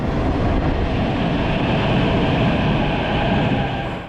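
A metro train rumbles steadily through the deep underground Arsenalna station in Kyiv, Ukraine, a loud continuous roar with faint rail clatter, easing slightly at the end.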